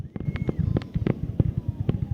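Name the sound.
fireworks show over Myrtle Beach pier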